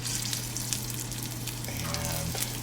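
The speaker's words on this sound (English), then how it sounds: "we can take our meatballs and drop them in the pan one at a time" Meatballs searing in a pan of hot oil give a steady frying sizzle throughout, close and moderately loud, with a few soft knocks as pieces go in.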